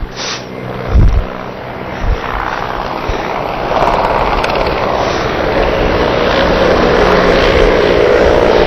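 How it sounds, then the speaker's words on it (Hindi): An Indian Air Force helicopter's engine and rotors roar steadily overhead at Kedarnath, loud and close, and grow fuller over several seconds, with a couple of thumps early on. "ऊपर आप देख सकते हैं वायुसेना का हेलीकॉप्टर है"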